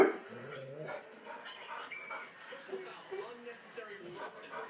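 A dog whimpers and gives soft yips while playing with puppies indoors, with a person talking over the faint, intermittent dog sounds.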